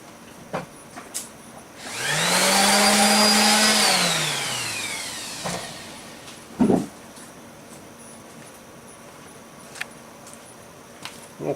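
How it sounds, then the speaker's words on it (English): A power sander whirs up for about two seconds on a metal part to take off burrs, the pitch rising then falling as it spins down, with a few knocks and clicks in an otherwise quiet workshop. "I'm going to run it over the sander just for a second here."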